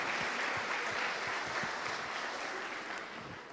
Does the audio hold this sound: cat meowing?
no